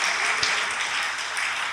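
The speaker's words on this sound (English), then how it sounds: "let's give him a round of applause" An audience at a Lackawanna County grant awards ceremony gives the grants administrator a round of applause, a loud, dense wash of clapping that fills the whole moment.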